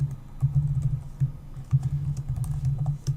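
Text typed on a computer keyboard, a soft, close, steady run of key taps in uneven rhythm, alone and fairly quiet.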